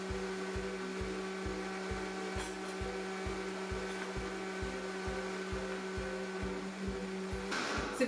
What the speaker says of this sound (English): I'm just going to blend it for about 10 seconds